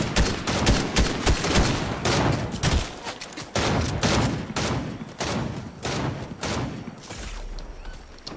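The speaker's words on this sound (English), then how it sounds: "They're shooting." Sustained volleys of enemy gunfire in the video game Fortnite, loud rapid shots packed close together in continuous bursts for several seconds, easing slightly toward the end.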